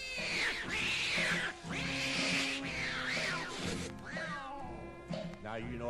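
Recorded cat meows and yowls worked into a song as a cat solo, drawn-out wailing cries repeating over steady music throughout.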